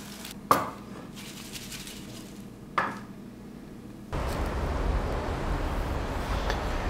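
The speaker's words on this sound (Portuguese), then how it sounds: "Vamos fritar esses primeiros." Battered cauliflower goes into a pan to fry: two sharp utensil clinks come first, then a sudden loud, continuous sizzle sets in and holds steady to the end.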